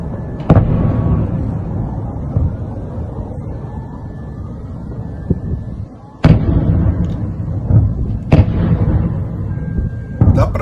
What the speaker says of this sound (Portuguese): dá para ver que tem várias explosões aqui